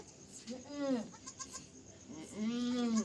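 A goat bleats twice, close and fairly loud, each call a wavering drawn-out cry about a second long, separated by a short pause with faint softer sounds between.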